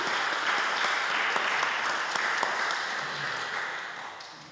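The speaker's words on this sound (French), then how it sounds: "On peut les applaudir." A church audience applauds in a steady wash of dense clapping that holds at a consistent level, then slowly fades toward the end, with no talking over it.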